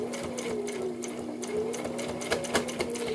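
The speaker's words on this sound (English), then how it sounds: "Alright, so we're just going to sew all the way around." A sewing machine stitches all the way around a fabric face mask, a close, steady motor hum with rapid needle ticking that rises and dips slightly in speed, with a few sharper clicks near the end.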